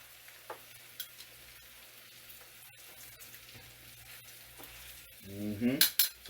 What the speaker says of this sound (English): So we're gonna sear both sides for like 3 minutes each